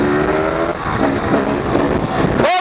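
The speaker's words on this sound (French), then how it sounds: "et là coup de gaz en plus" A motorcycle engine roars loudly and close during a wheelie, a sustained throttle-blip rev with a harsh, dense drone that rises in pitch before cutting off abruptly at the end.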